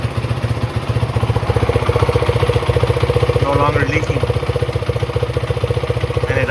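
A 2005 Honda TRX450R ATV, freshly repaired after a fuel line leak, idles loud and close with a rapid, even thumping beat, while someone talks briefly over the steady engine.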